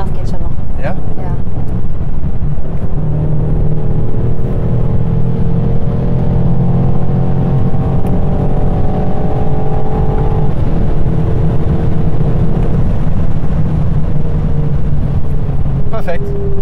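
Inside a BMW M8 on the move, a loud, sustained engine drone and road roar carries on throughout, with engine tones climbing and holding through the middle before easing off.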